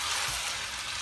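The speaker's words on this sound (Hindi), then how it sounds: "और इसको हम अच्छी तरह से फ्राई कर लेंगे।" Spaghetti frying in a pan with added vegetables, a steady, broad hiss of sizzling oil lasting about a second, even in loudness with no voices over it.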